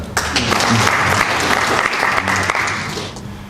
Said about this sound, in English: We deserve a clap for that.